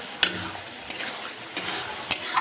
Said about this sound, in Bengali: আমি এটা কষাবো একদম মোটামুটি আরো 15 মিনিট, একদম লো স্টিমে